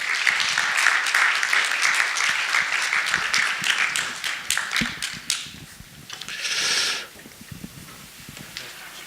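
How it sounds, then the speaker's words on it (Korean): A church congregation claps for a revival speaker: dense applause for about five seconds, thinning into scattered claps, then a short rustle before it goes quiet. "박수 부탁드리겠습니다."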